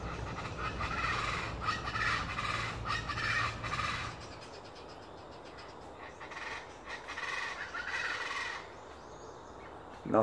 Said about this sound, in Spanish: Cuánto animalito, cuántas aves.